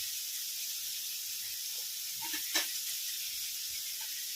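Onion and capsicum sautéing in a pan for Hakka noodles, a soft, even hiss of frying with a brief sharper sizzle near the middle, fairly quiet and without speech.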